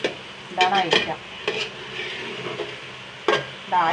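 Food is sautéed and stirred in a pan, with a soft sizzle beneath several sharp scraping and clinking strokes of a utensil against the pan, spaced irregularly and close by.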